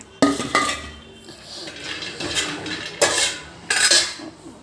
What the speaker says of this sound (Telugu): ఇదండి బాగా కాలుతుందండి